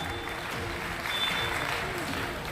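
Loud, steady applause from an audience welcoming guests at a Red Cross Society ceremony distributing assistive devices to people with disabilities, dense clapping filling the space throughout.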